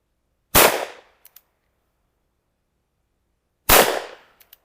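A Smith & Wesson Schofield revolver fires two loud, sharp shots about three seconds apart, each ringing out briefly and trailed by small distant clinks.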